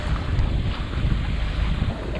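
Strong wind roars across the microphone aboard a sailboat at sea, blowing about 15 to 17 knots, a steady loud rush with gusty swells and water wash underneath, no voices.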